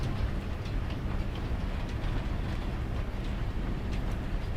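A train rolls along in the video game Farming Simulator 22, a steady, dense rumble with a faint rhythmic rattle that holds even throughout without breaks.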